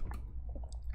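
A wet, squishy gulp from the eerie menu screen of the horror game Scorn, a brief slick swallowing sound with faint dripping textures, close and quiet with no voices over it.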